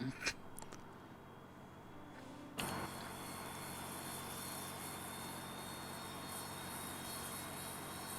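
Dash 8 turboprop engines in a flight simulator spool up from quiet to a steady, loud whine and drone after a sudden rise, holding a constant broadband roar with tonal hums.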